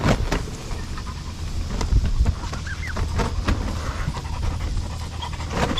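Black Spanish turkeys shuffle and pant in a cage, soft rustling and breathy panting with scattered clicks and small calls, close by and without talk.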